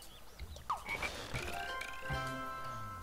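A cartoonish frog croaks in the video game Scribblenauts Unlimited, short bubbly croaks mixed with chimes, whistles and other game effects.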